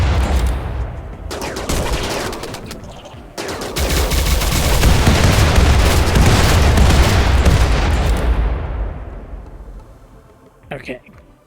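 Mass accelerator turrets in RimWorld unleash a loud, sustained roar of rapid-fire shots and booms lasting several seconds, then fade into quiet with a short voice at the end.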